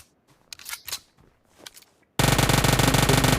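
Automatic gunfire in PUBG Mobile on a snowy map, a loud, rapid sustained burst that kicks in abruptly after a stretch of quieter scattered sounds and keeps firing to the end.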